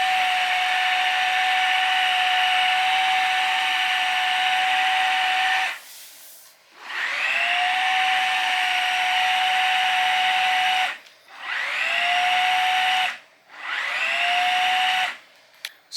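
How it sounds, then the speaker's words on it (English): A Dyson V15 cordless vacuum with a repaired latch runs close by as a steady high whine, switching off and spinning back up several times in quick succession, with no one speaking. "so as you can see, this vacuum works."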